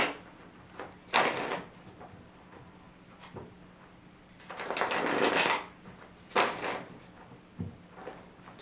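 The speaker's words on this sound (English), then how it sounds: "Two more shuffles." Tarot cards are shuffled by hand in short, soft riffling bursts, several separate shuffles spaced apart in a quiet room.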